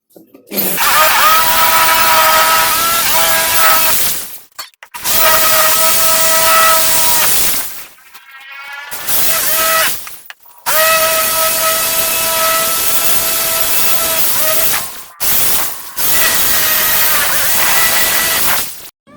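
Ingco 650 watt impact drill run in hammer mode, loud and buzzing in several long bursts separated by brief stops, with a short revving spin-down in the middle.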